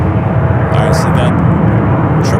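A Boeing 777-200ER jet bound for Munich roars steadily at San Francisco airport, a loud broadband engine rumble filling the scene while people talk over it.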